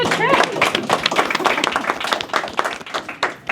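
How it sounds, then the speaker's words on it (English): An audience at a luxury real estate seminar claps in a dense, steady round of applause lasting a few seconds, with voices mixed in under the clapping. "let's give them a little applause for making the trip."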